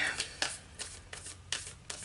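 Someone shuffles an oracle card deck by hand, making a quiet series of crisp papery riffles that repeat at a steady pace, about every half second.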